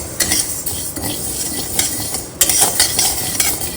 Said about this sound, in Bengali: ডালটাকে শুকনো খোলায় ভেজে নিচ্ছি মানে ড্রাই রোস্ট করে নিয়ে